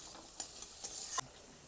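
Chopped green chilli frying in butter in a pan, a faint steady sizzle with a few soft utensil taps, no voices.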